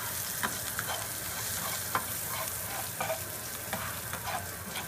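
Sautéing in a pan for banana subzi: a constant low sizzle with soft scraping and clicking from stirring at irregular moments, fairly quiet and heard up close.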